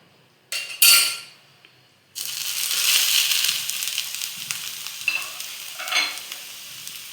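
Shredded cabbage drops into a pan with a little hot oil and sizzles steadily, after a couple of sharp clatters from the pan and spoon, with faint stirring scrapes over the sizzle.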